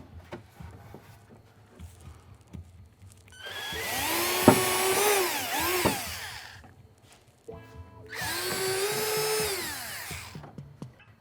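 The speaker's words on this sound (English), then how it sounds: "I'm gonna drill 2 holes in it." A power drill whirs up twice while drilling holes in a rear bumper, each burst lasting a few seconds with a rising then falling pitch, separated by a pause with light handling noises.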